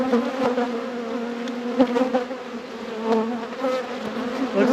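Honey bees swarm and buzz around an open hive during a spring inspection after winter, a dense continuous hum with individual bees zipping close by, no talking.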